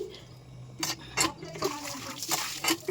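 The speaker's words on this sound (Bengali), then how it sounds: "এগুলো মাজা হয়ে গেছে এবার এগুলো ধুয়ে নিচ্ছি" Scrubbed dishes are rinsed with water at close range, with intermittent splashes and short pours over a low background hum.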